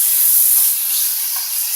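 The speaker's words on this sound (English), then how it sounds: "Hear that sizzle." Loud, steady hiss of meat for steak tacos sizzling in a hot pan, continuous and close.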